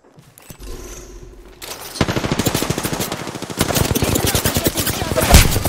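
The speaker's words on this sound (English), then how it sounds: "Opening fire on the enemy." Rapid machine gun fire in a video game, a fast steady stream of loud close shots building in intensity over several seconds, with no talk over it.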